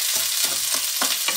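Frozen onions fry in a pan for meatballs in tomato sauce, with a steady close sizzle broken by several short stirring scrapes in a quick, uneven rhythm over a brief stretch, with no talking.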